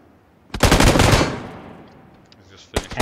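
Gunfire in PUBG: a fast automatic burst lasting about half a second that rings and fades out, then a second short burst near the end.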